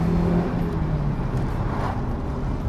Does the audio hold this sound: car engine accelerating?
yes